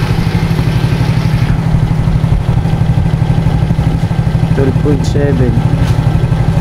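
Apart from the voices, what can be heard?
Suzuki Smash motorcycle engine idling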